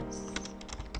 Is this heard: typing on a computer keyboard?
yes